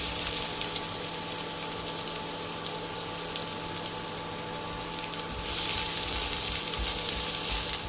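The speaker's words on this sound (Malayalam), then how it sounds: "ചൂടായ വെളിച്ചെണ്ണയിലേക്ക് സവാള ചേർക്കാം" Onion added to hot coconut oil in a pan sizzles continuously, a broad hissing fry that grows louder in the last couple of seconds, with no talking.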